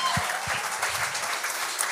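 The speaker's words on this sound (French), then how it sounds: "On l'applaudit." Audience applause on a French-language Quebec television talent show, a steady crowd clapping texture with a few lower thumps, moderately loud and continuous throughout.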